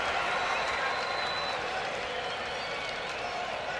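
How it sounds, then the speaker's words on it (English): Large crowd at a Cincinnati Reds home baseball game against the Brewers, a dense, steady roar of cheering and applause filling the stadium, with an announcer talking over it. "Crowd sensing it's a big moment."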